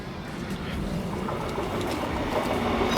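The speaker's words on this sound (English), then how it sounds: "Train." A train rumbles past steadily nearby with faint rail clatter. The rumble swells slightly over a few seconds outdoors where a caravan is being repaired.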